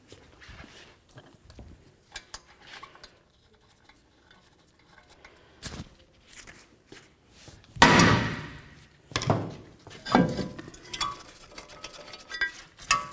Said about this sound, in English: Now we're going to use our hammer and break this free to remove it.